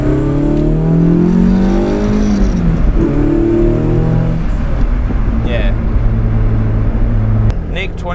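A Toyota AE86 with a 4.7 differential accelerates on the road, its engine revving loud and close through gear changes while people talk inside the car.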